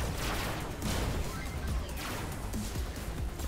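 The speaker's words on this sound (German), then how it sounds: "Nicht auf mich schießen." Dense gunfire and explosions in the vehicle combat game Robocraft, with an SMG drone among the fighters, a continuous loud barrage of overlapping shots and blasts with a voice speaking over it.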